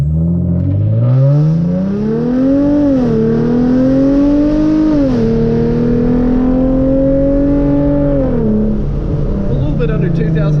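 A Hyundai Genesis Coupe 3.8 launches from around 2000 RPM, its engine roaring up through the revs, dropping briefly at each gear change and climbing again, loud and close from inside the car.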